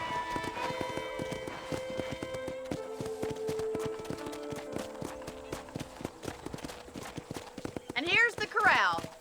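Horses clip-clop around a ranch corral in the Red Dead video game, a rapid run of hoof taps under music and a voice talking throughout, with a whinny rising near the end.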